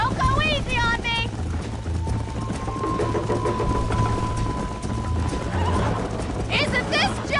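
Horses gallop in a race in the video game Red Dead Redemption, with steady hoofbeats and a whinny under loud continuous background noise and music, while voices shout encouragement over the action.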